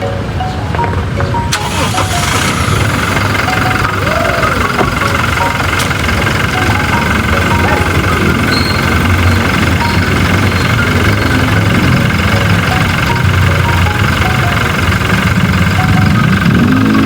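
A vehicle engine idles steadily just after being started, a loud, constant rumble close by that runs without a break for the whole stretch.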